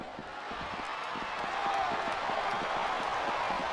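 A large wrestling arena crowd at a WWE Elimination Chamber event chants in steady rhythmic bursts, loud and sustained, with a commentator's voice faintly underneath.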